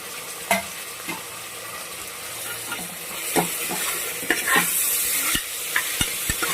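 Tomatoes being stirred and sautéed in a pan for Malabar-style vegetable biryani, with steady sizzling and hissing broken by repeated scraping and clanks of a spoon, close and fairly loud, no talking.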